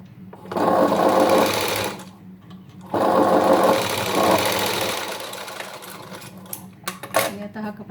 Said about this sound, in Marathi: याला आपण हा सरळ कपडा आहे असा उलटा करून इकडे शिलाई मारायची आहे